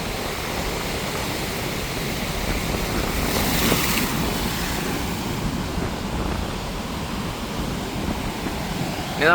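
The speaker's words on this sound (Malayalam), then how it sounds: "കല്ലടിക്കുന്ന കല്ലുകൾ കൂട്ടിയിടിക്കുന്ന ശബ്ദം ഉണ്ടാകും കൂടുതലായിട്ട് കേൾക്കുന്നത്" A rough sea surges and crashes in continuous loud waves during severe coastal erosion at Anchangadi on the Kadappuram shore, with gusty wind blowing across the microphone.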